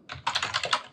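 Computer keyboard typing in the vi editor on Linux, a quick irregular run of close, crisp key clicks lasting about a second with no voice.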